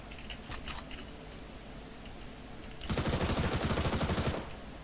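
Automatic gunfire in a CS:GO competitive match on the Cache map, a dense rapid burst lasting about a second and a half, loud and close, preceded by quieter scattered clicks and background game noise.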